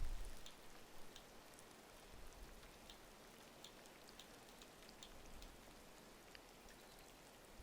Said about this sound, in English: Why you gotta keep raining?